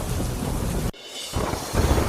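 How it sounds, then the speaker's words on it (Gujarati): Heavy monsoon downpour with strong wind over a flooded village, a steady roar of rain on surfaces that drops briefly near the middle before the loud wash returns. "ભારે પવન સાથે ધોધમાર વરસાદ વરસતા"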